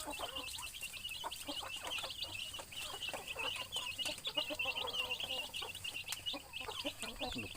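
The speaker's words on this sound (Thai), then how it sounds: "ลูกไก่ลูกเป็ดกินน้ำถึง" Chicks and ducklings in a brooding pen, fed a mix of commercial feed and rice, keep up a dense, continuous chorus of high peeping and chirping, with soft pecking and clucking sounds underneath.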